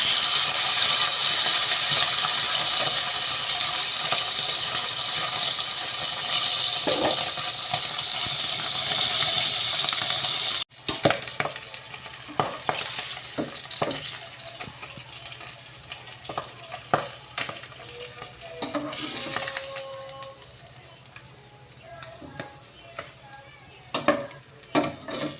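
Bangus milkfish hits very hot cooking oil with a loud, dense sizzle, then settles into uneven crackling and spattering frying with scattered clinks of utensils against the pan.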